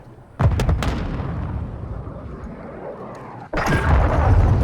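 Grenade explosion in the multiplayer shooter Call of Duty: Modern Warfare II, a loud, booming blast followed by a rumbling, debris-filled tail, then a second powerful burst near the end, with no talking.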